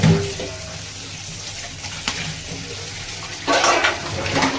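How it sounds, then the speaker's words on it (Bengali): Running tap water splashes into a sink while dishes are washed, a continuous watery hiss that surges in brief bursts near the end, close and moderately loud. "দেখো বাসন মাজছে"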